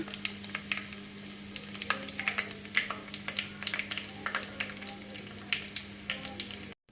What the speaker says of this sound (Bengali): এখন ধীরে ধীরে তেলটা ফুটতে শুরু করছে